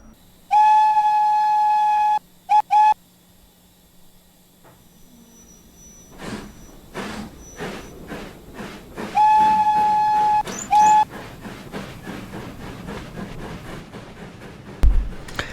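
A GWR 5700 steam locomotive in Train Sim World 6 sounds its 4F whistle in two loud sustained blasts with short toots after each, followed by rhythmic chuffing and rail clatter as the engine works away.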